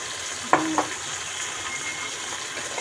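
Pasta sauce goes into a pan for salmon pasta and frying begins. A couple of sharp clicks open onto a low, steady sizzle with faint stirring, and nobody speaks.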